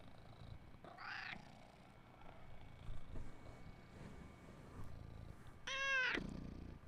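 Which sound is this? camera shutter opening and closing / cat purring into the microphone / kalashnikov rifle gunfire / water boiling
cat purring into the microphone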